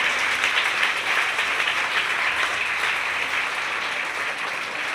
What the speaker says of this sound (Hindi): आप लोग उन टीचर्स के लिए बेटा एक बार जोरदार तालियां हो जाइए